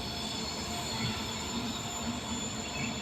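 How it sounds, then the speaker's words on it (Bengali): The Uttarbanga Express rolls along a curving track near New Cooch Behar, its wheels giving a steady, faint, distant squeal over a low continuous rumble. "তো নিকুজবাড়ির দিকে যাচ্ছে ট্রেন"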